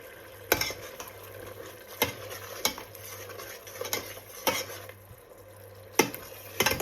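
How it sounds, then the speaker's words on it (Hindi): Spice masala frying in a pot for chana dal pulao makes a soft, steady sizzle, broken by regular metallic spoon strikes and scrapes against the pot roughly every second, close and without speech. "ये देखें माशाल्लाह मसाला भून रहे हैं"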